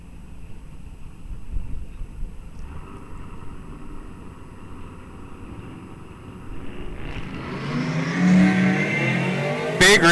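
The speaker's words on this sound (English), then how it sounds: "Mopar versus Chevy on the starting line." A Mopar Dodge Charger and a Chevy launch side by side in a heads-up eighth-mile drag race, engines building from a steady idle rumble into a loud, rising roar as both cars accelerate away down the strip.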